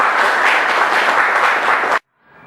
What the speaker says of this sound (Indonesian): Kita beri aplaus yang luar biasa untuk kelompok